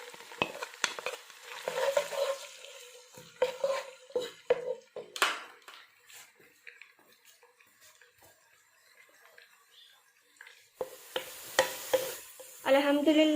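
Onions frying in oil in a karahi for a lobia dish, with intermittent spoon scrapes and clatters against the pan over a low sizzle, a quieter stretch in the middle, then louder stirring returning near the end.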